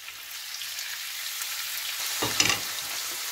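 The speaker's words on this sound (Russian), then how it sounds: "в сковороду добавлю растительного масла и обжариваю сначала фарш" Minced meat frying in vegetable oil in a pan for a winter cheese soup with leek and potato, a soft continuous crackling sizzle with a spatula scrape and stir rising briefly near the middle.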